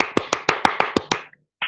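Hands clap close by in a quick, even run of about eight sharp claps, then a brief pause before one more clap starts, as in a small round of applause.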